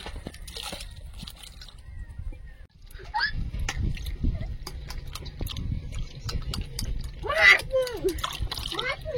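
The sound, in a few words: washing garden vegetables in water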